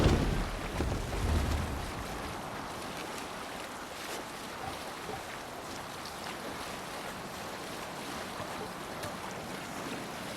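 A ship sails on the sea in Assassin's Creed Valhalla, with a steady wash of waves and wind around the hull, a little louder at the start and then a constant, moderately quiet surge.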